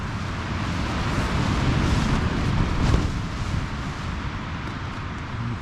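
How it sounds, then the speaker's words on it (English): Strong Storm Aiden wind roars continuously at a wild campsite, buffeting the microphone with broad rumbling gusts that swell around the middle and ease slightly afterward. "You can probably hear some of those gusts that are coming through"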